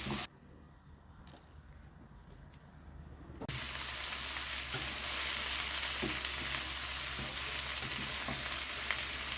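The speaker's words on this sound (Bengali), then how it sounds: "তেলের উপরে বাইজানি কিছুক্ষণ করলা ভাজি হয়েছে" Bitter gourd fries in oil in a pan, first as a soft quiet sizzle, then as a loud, steady, dense hiss that runs to the end with faint stirring clicks.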